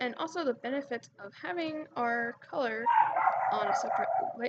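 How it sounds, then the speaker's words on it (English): A dog barking outside the house, a few distant barks sounding faintly under a person speaking close up, with a brief burst partway through. "Sorry if you heard a dog barking outside"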